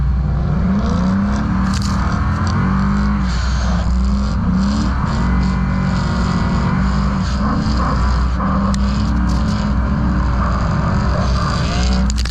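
A BMW E90 drives on rally-style roads with a loud, continuous engine drone, its revs rising and falling in waves, heard up close alongside road and gravel noise.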